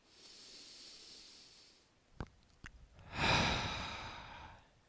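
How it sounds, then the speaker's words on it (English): Deep breathing during a yoga session: a long airy inhale, a couple of brief sniffs, then a strong, rushing exhale, close to the microphone with no talking. "Take 3 deep breaths."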